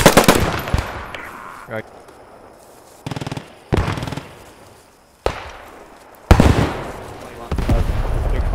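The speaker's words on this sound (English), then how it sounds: "Rounds are coming in now." Machine gun fire in the Post Scriptum World War II video game comes in loud bursts separated by pauses, with heavy shots and echoing reports; a voice speaks briefly.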